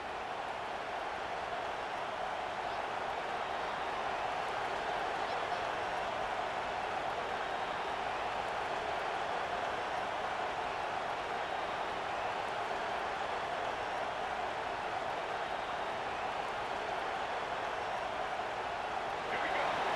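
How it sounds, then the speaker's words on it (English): A college football stadium crowd at a Michigan versus Florida State game roars steadily on third down, a dense, sustained wall of cheering and noise that stays loud and unbroken throughout. "Decibels rising as the crowd gets behind this defense on third down."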